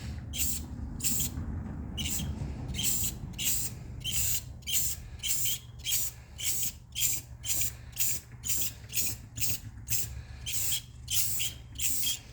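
Clear coat is sprayed onto a car headlight in quick rhythmic hissing bursts, each short pass repeating steadily at close range with no talking.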